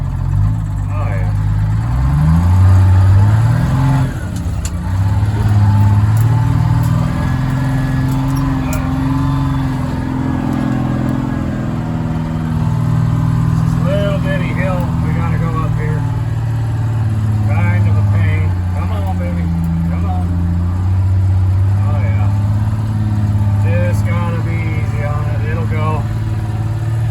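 Detroit Diesel 6-71 engine in a ranch truck runs loud and close, its deep drone rising and falling as it revs and pulls under load, with people talking over it.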